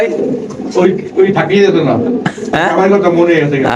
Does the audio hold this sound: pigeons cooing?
yes